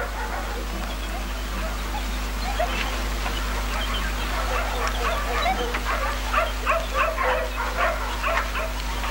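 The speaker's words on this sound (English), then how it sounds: "They tried to find me with dogs." Dogs searching for a person in the rain bark and yip in scattered bursts, moderately distant, over steady rain-like noise and a low hum.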